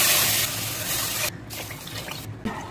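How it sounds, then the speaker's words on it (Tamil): Ground tamarind water pours into rice in a pressure cooker, a steady close gush of liquid that breaks into brief splashes near the end. "இப்போ நம்ம அரைச்சி வச்ச புளி தண்ணி சேர்த்துக்கலாம்."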